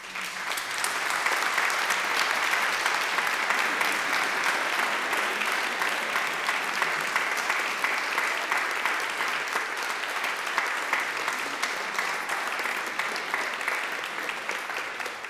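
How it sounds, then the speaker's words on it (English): A congregation at a church service gives long, steady applause, a dense uniform wash of many hands clapping that holds for about fifteen seconds with no voices over it. "One more round of applause."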